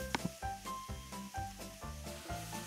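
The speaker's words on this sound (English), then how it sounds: "We're going to start with the step that takes the longest, which is browning the sausage." Sausage browning in a hot pan, a steady sizzle with rhythmic scraping strokes every half second or so as the meat is stirred, close and moderately loud.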